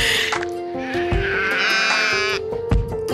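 Sheep bleat loudly and close by on a working farm that also keeps alpacas, a few wavering, drawn-out calls overlapping one another with no talk.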